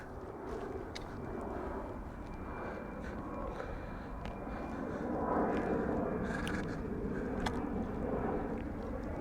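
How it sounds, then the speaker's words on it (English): A jet aircraft passes overhead near an international airport, a steady low broadband roar that swells slightly midway, with faint scattered clicks and rustles nearby in an open field. "I do apologise for the aircraft noises"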